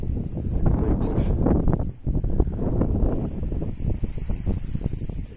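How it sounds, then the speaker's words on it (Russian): Strong seafront wind on the embankment in Alushta, with mountains sheltering the shore and rough sea beyond, a loud continuous buffeting roar against the microphone that dips briefly and then returns. "берега горы прикрывают, поэтому вот такой ветер мы можем ощущать."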